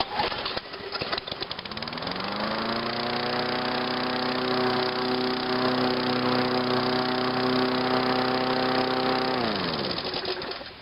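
A push lawn mower engine starts and runs steadily with a loud, even drone and a clear buzzing tone, then cuts off near the end.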